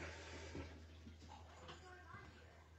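In a home kitchen, items are washed under running tap water, a steady close splashing hiss that lasts the whole moment, with a few quiet voices underneath.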